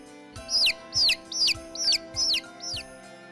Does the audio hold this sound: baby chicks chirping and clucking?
yes